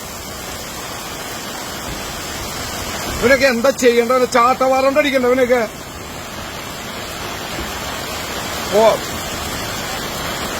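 Heavy rain pours steadily onto a flooded road in Thrissur where tarring work is going on, a constant loud wash throughout, with a voice talking over it mid-clip and a short shout later.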